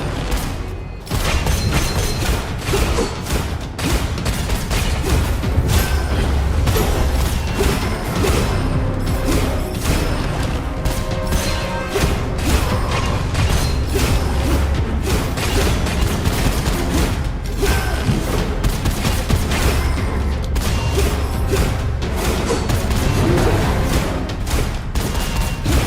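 Dense, loud combat in the Doom video game, with rapid punching and kicking impacts mixed with booms, crashes and bursts of gunfire, continuous and relentless with no talk.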